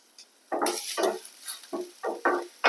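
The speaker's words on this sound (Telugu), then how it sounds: "తాలిం గింజలు కొంచెం వేగిన తర్వాత ఒక చిన్న అల్లం మొక్క తురిమి వేసుకోవాలి" Sesame seeds, cumin and grated ginger frying in ghee for oats upma, a quiet pan with repeated bursts of crackling sizzle in an irregular rhythm, close and alone.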